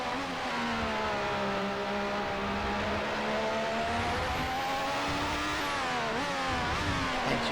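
Williams FW11B turbo Formula 1 car in Assetto Corsa roars down the front straight, its engine holding a loud, steady, harmonic-rich drone that climbs gradually, with a brief dip and shift near the end.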